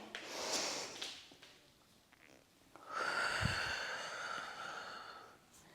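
Slow, deep breathing from a hatha yoga class, an audible breathy exhale followed by a longer, louder sweep of breath, soft and close with no talking.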